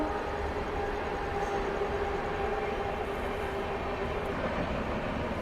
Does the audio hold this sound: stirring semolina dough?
no